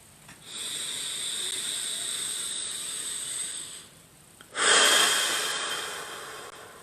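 Deep, audible breaths during a heart-opening breathing exercise: a long drawn inhale lasting several seconds, a short pause, then a stronger, louder rushing exhale, close to the microphone with no talk.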